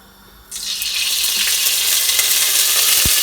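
A sudden burst of sizzling as oil hits a hot pot while cooking borscht, then a steady, loud crackling hiss that keeps going without any talking.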